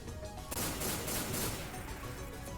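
Pistol gunfire from the video game Metal Gear Acid 2, a loud burst of sharp reports starting about half a second in and rattling on densely to the end.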